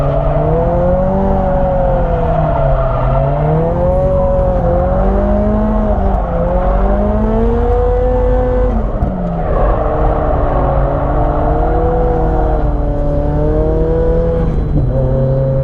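Nissan S15 drift car from Yashio Factory revving hard while drifting at Nikko circuit, a loud, continuous engine roar rising and falling with throttle and shifts, heard close with no talk.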